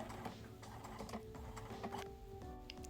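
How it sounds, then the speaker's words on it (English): Sewing machine stitching along the edge of a fabric tote bag strap, a fast steady mechanical rattle with a faint motor whine, fairly quiet and close, with no talking. "we're going to go in and stitch along the edge using the same seam allowance as before"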